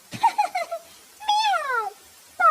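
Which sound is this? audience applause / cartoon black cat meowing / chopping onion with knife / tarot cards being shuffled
cartoon black cat meowing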